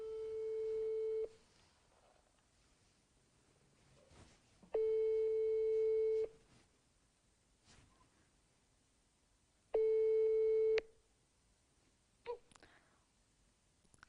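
Outgoing telephone call ringback while waiting for someone to pick up: three steady, even tones, each lasting just over a second, separated by long silences, clear and alone.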